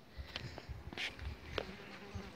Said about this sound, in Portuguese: aqui tem bastante inseto nas flores